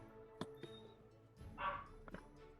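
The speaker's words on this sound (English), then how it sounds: "Oh, that damn dog." A dog barks a few times, with two short sharp barks and then a longer, muffled yelp-like bark. It sounds somewhat distant and quiet in a mostly still room.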